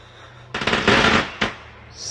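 Fireworks going off in a rapid crackling burst, a dense loud rattle of pops for about a second followed by a single sharper bang, close and alone against low background hum.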